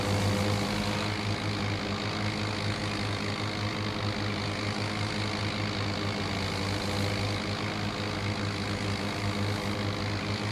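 A ranch tractor with a chain or blade attachment runs steadily at close range, a constant loud engine drone with no breaks and no voices.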